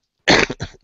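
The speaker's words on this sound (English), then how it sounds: "sorry, coughing at you" A man coughs a few times in quick succession, close and loud, with short harsh bursts trailing off into silence.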